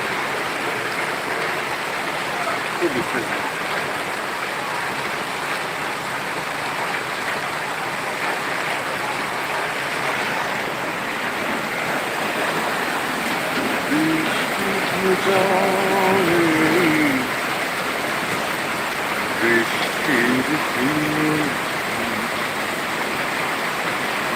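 Relief rain pours over Sirajganj after a heatwave, a steady, dense hiss of falling water that never lets up, with faint voices murmuring underneath.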